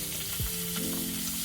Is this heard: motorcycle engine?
no